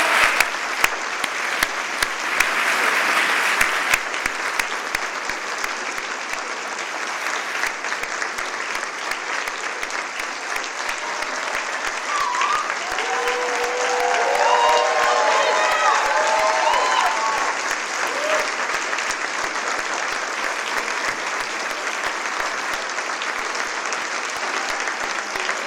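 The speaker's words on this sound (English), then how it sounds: "give you one more big round of applause" Audience at Stanford's 3 Minute Thesis competition applauding the finalists on stage, sustained loud clapping that rises and falls over many seconds, with a brief murmur of voices partway through.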